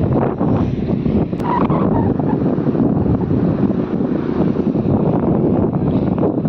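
Strong wind buffets the microphone on a sea beach at Suvali near Surat, with a broad, steady roar of waves and surf beneath, loud and continuous without speech.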